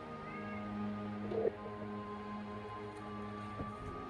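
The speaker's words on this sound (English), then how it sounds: "please excuse my cat, he's a little upset today." A short, faint meow rises briefly over a quiet room hum with a steady low tone.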